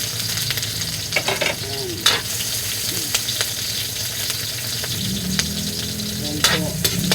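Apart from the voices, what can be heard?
garlic and onion frying in pan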